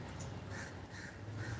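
Crows cawing overhead, a few harsh repeated calls at a distance over a steady background hum, faint.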